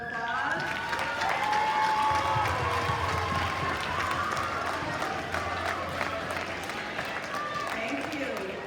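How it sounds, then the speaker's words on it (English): A school audience applauds its 5th grade house captains at an anniversary celebration, with sustained clapping and cheering mixed with scattered voices and crowd chatter throughout. "Let's give them a round of applause"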